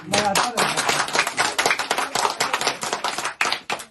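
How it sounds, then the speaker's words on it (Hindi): A crowd at a village school event in Shravasti near the Nepal border claps for Amarnath ji: loud, dense, irregular clapping close by, with a voice briefly heard at the start. "सबसे पहले आप अमरनाथ जी की ताली बजाइए।"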